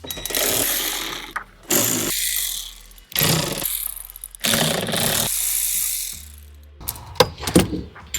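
A hand ratchet clicks while loosening 8mm hex-headed screws from a BMW C-pillar trim panel, heard as several loud, close bursts of fast clicking separated by short quiet gaps.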